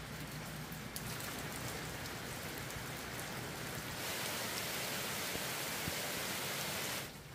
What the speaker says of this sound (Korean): 여 시간이 갈수록 비 더 세게 보네요 지금.